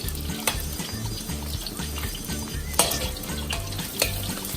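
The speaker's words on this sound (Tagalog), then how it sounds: "So, just saute the onion." Onion sautéing in a hot pan for Filipino-style chicken curry, a steady close sizzle with stirring scrapes and a few sharp utensil clanks, no voices.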